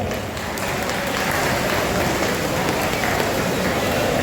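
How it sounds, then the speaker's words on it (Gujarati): Steady dense clapping from a seated crowd of senior citizens at an indoor meeting while rain falls outside, one continuous wash of applause and patter throughout. "મેઘ રાજાને તાલીઓ આપણે બતાવો"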